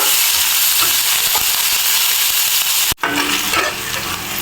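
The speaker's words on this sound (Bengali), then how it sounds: "এবার দুই টেবিল চামচ পেঁয়াজ বাটা দিয়ে দিব হালকা একটু ভেজে নিব" Onion paste fries lightly in oil with cinnamon, cardamom and clove, giving a constant close hiss and crackle with faint stirring, briefly interrupted by a sharp cut before the sizzle resumes.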